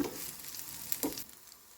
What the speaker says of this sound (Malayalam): ഈ ചൂടായ എണ്ണയിലേക്ക് ഇടാം ഇനി ഇതെല്ലാം ഒന്ന് തിരിച്ചിട്ട് കൊടുക്കാം